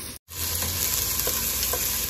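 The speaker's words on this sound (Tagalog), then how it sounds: "Gisayin natin yung bawang, sibuyas, luya." Garlic, onion and ginger sauté in a hot pan with a steady, close sizzle and occasional stirring, broken by a brief silent gap near the start.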